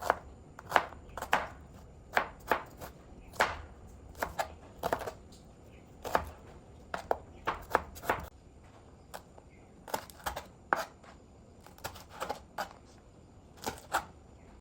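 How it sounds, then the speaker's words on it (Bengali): A knife chops potatoes, onions and chilies on a board for a village-style fish and vegetable dish, with rapid close taps coming in uneven bursts and short pauses, and no talking. "তার সাথে কেটে নিচ্ছি রান্নার জন্য পেঁয়াজ ও মরিচ"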